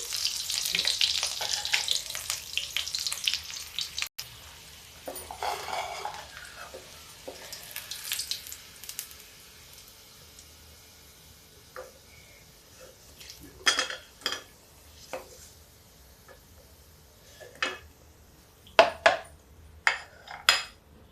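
Chana dal chur chaat sizzles softly in a pan over raised gas, with a few scattered clinks of a spoon stirring it and the hiss fading to a low, steady fry.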